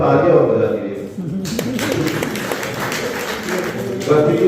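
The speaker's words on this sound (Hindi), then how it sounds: "थोड़ा तालियां और बजा दीजिए।" Audience applause at a Hindi poetry recital (kavi sammelan) organized by the Rashtriya Swayamsevak Sangh, a steady wash of clapping from a crowd that rises after a brief dip and swells again at the end.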